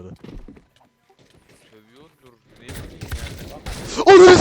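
Gunfire in the Counter-Strike video game, a dense burst of loud, close shots arriving near the end after quieter talk and scattered game sounds; people speak during the clip.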